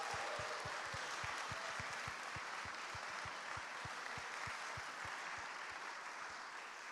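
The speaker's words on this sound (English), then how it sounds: "So a big applause for them" Steady, continuous applause fills the room at a live horror game awards show, a dense wash of clapping from an audience, fairly faint and without voices over it.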